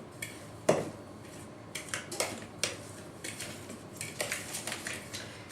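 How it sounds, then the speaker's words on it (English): Dry baking ingredients, including salt, being stirred together in a bowl for champagne cupcakes, giving a run of light scraping clinks and taps from utensil against the bowl, close and fairly quiet, with no talking. "Just going to mix them dry ingredients together real nicely before I put it in the batter."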